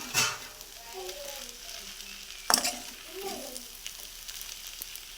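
Sabudana khichdi is stir-fried in a pan, making a close, even sizzle. A sharp clatter of the spoon sounds near the start and again midway, with a faint murmuring voice in the background.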